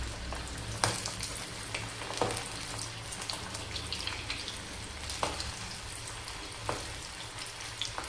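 Ivy gourd kababs frying in hot oil give a steady, soft sizzle and bubble throughout, with a few sharper crackles and light clinks of a utensil, no voices.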